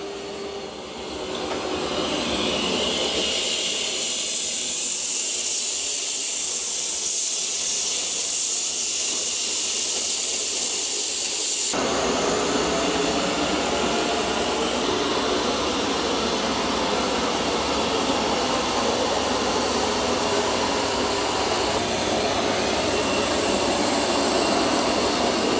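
A eufy X10 Pro Omni robot vacuum runs over carpet with a loud, steady, close whooshing hiss that never lets up, and its tone shifts noticeably partway through.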